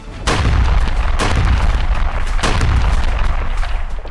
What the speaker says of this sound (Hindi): आसमान से बम बरस रहे हैं, नीचे इमारतें मलबा बनती जा रही हैं।